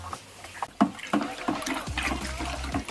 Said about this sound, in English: Just put the weed water in there as well, which is boiling hot.